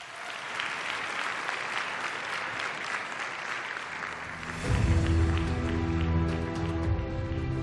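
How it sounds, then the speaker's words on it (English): Conference audience at a startup pitch semi-final breaks into sustained applause for the judging panel, a dense wash of clapping that swells and then gives way to music rising beneath it near the end. "Let's give them a round of applause."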